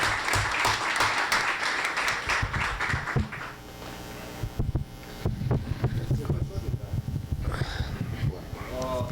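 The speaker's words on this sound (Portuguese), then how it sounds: "Eu gostaria de pedir uma salva de palmas para ele." Audience applause for an event organizer at an academic tribute session, dense clapping at first that thins out midway, followed by murmuring and movement in the room.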